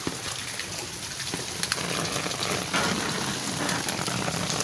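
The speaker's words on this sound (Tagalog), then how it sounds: "kasi maambon-ambon pa" Light drizzle falling outdoors after strong wind toppled a tree, a steady dense patter of raindrops on surfaces with a few sharper drips, loud and continuous throughout.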